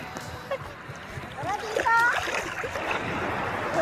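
People swim outdoors in water surrounded by mountains, with scattered light splashes and sloshing up close and voices talking over them.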